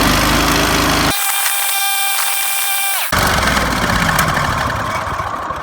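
A lawn mower engine still stuttering after carburetor work runs loud and close for the whole stretch. A sharp break in its roar marks a drop to a whining, higher idle, then it surges back to a rough, uneven run.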